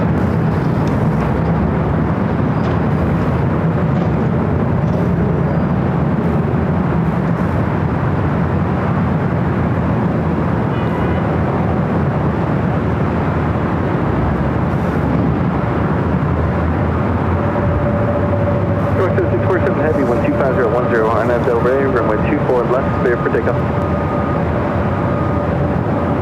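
A large heavy jet on the runway at LAX, a loud continuous roar of engines rumbling and building, with a steady whining tone emerging toward the end as thrust rises for takeoff.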